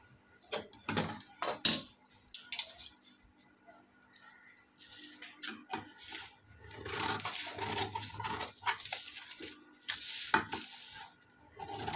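Scissors cut katori blouse fabric for a size-40 blouse, starting with the back piece: close, intermittent snips and crisp scraping rustles in short bursts, then a denser stretch of cloth handling and cutting, with no talking.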